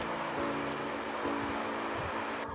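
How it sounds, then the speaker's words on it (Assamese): Heavy rain pours down behind a house where the water is flooding, a dense, steady hiss that stays even and loud throughout, with no voices. "দুপৰীয়া পূৰা দবা পিঠা বৰষুণ"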